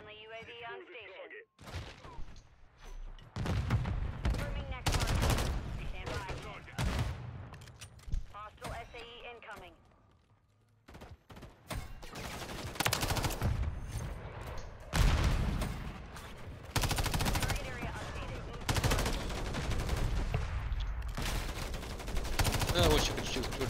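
Shooter-game gunfire, repeated bursts of automatic fire and single loud shots spread across a long stretch of combat, with a short lull partway through and a player speaking in places.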